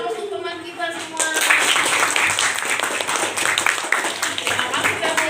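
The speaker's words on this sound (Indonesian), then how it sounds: "Beri aplaus untuk teman kita semua." A classroom of students breaks into applause for classmates after a group presentation, clapping dense and steady, rising quickly and sustained to the end, with voices chattering underneath.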